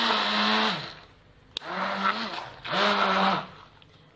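A kitchen blender grinding ingredients for homemade chicken mortadella, roaring in three loud bursts of about a second each with short pauses between, close and steady, its motor pitch dipping as each burst stops.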